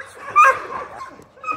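A dog lets out a short, high yip and whimpering bark at close range, followed by a quieter whine, with nothing else prominent around it.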